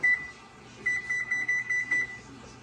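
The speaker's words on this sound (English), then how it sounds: "I'm gonna go ahead and set my timer" A kitchen timer being set while cooking candied yams, giving a string of short, evenly spaced high beeps in quick succession after one initial beep, fairly near and clear.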